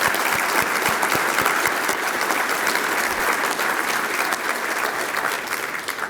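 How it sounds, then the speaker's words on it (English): Sustained, dense applause from a large audience, steady and loud throughout with no pauses. "Give them a round of applause."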